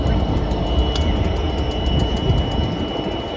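A Class 66 diesel locomotive passing on a main line, heard as a loud, continuous rumble and roar close by, with a steady high whine and no speech.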